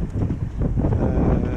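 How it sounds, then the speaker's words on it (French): Wind at sea off Cap Corse blows hard against a sailboat heading into a 13-14 knot headwind and swell, a loud, constant low roar and rumble of buffeting with no talk. "le vent comme attendu c'est souffle."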